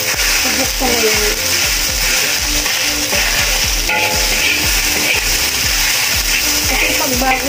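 Fried rice made with leftover, day-old cooked rice sizzles and crackles steadily in a pan, with frequent scraping and stirring strokes and clanks of a utensil against the metal, loud and close throughout.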